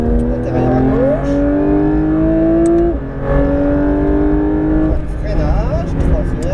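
A Porsche 992 GT3 RS engine revving hard on a track, loud rising whine climbing through gears with a brief dip at a shift, steady and close from the cabin.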